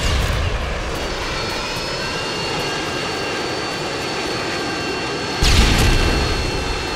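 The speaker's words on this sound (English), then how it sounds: "Friendly Harrier's inbound." A friendly Harrier jet flies in during video game combat, a loud continuous jet engine whine with a sharp boom near the end, no talking.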